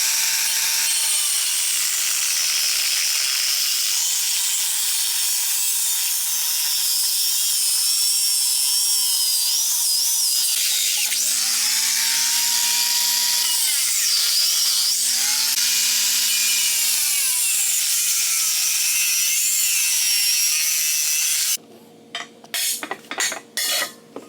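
A Ryobi power tool runs steadily at close range during work on an SC400 manual gearbox swap, giving a continuous whine with shifting pitch for about twenty seconds before ending in a few sharp clanks and knocks.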